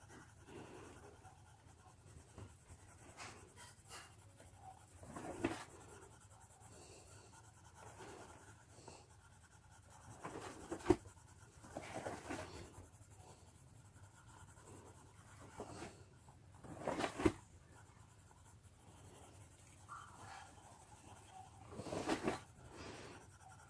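Polychromos colored pencil strokes are blended on paper, giving soft, faint rubbing and scratching that swells in a few short passes over a quiet background.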